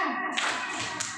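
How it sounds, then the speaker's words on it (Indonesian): A classroom of students clapping once on cue: a short burst of several overlapping hand claps, fairly close, followed by a faint second tap, with no talk. "Ya, silakan tepuk sekali."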